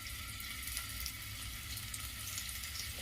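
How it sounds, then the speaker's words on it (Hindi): Paneer pieces shallow fried in hot refined oil in a kadhai, giving a steady, close sizzle and crackle that holds without break and with no talking. "तो मैं सेलो फ्राई इसको करूंगी। दोस्तों, रिफाइंड में मैं बना रही हूँ।"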